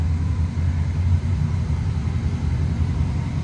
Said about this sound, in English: Hear our exhaust sound. A little bit subdued, but once you step on it, that V8 will rattle the pipes a little